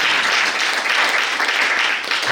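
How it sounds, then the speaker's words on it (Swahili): An EAGT church congregation claps for Jesus in a loud, continuous burst of applause, thick and steady from many hands nearby throughout. "Tumpigie Bwana Yesu tena makofi"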